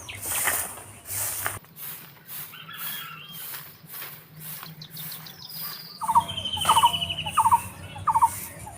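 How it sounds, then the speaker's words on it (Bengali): Birds call around a village home in the morning, with scattered chirps and whistled phrases, some near and some farther off, over a soft outdoor background. The calls grow busier and louder toward the end. "শুনতে পাচ্ছ তোমরা কত সুন্দর পাখিরা ডাকছে"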